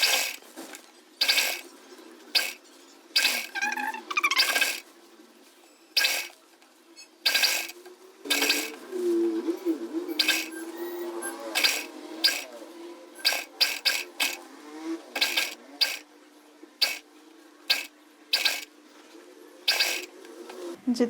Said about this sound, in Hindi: अब यहीं से घुमाकर लेके जाएंगे स्टिचिंग और दूसरी साइड भी सिल देंगे।